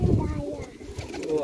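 Breeding pigeon in Sialkot coos softly in a short, low throaty burst close by, while a voice talks over it.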